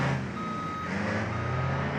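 Reversing beeps from a vehicle backing up in BeamNG.drive, a steady repeating electronic tone sounding loud and close over engine rumble, with no talking.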